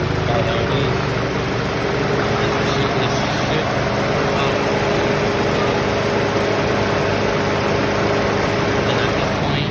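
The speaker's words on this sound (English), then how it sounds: "So I'm waiting for the fan to kick on." Radiator fan on a Toyota Celica GTS with the 2ZZ engine whirs steadily beside the idling motor, a constant close mechanical hum and broadband rush throughout with no clear change.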